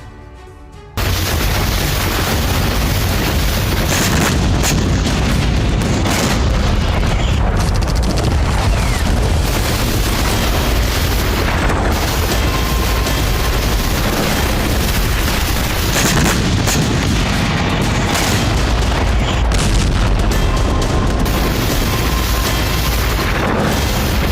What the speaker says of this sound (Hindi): जंगी मैदान में बेतहाशा बारूद बरस रहा है।